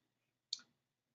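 A single computer mouse click on a submit button sounds once, short and faint, near, with quiet around it.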